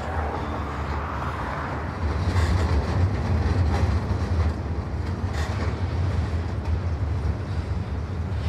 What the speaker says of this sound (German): Der Zug rollt direkt zur Verladung am Kai.